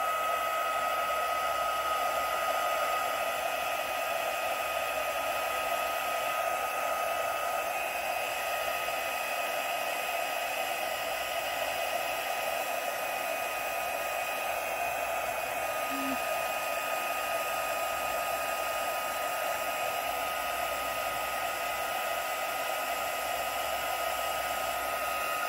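A heat tool melts embossing powder on a watercolour resist piece, giving a continuous airy blowing hiss with a steady motor whir. It runs evenly and fairly close throughout, with no talking.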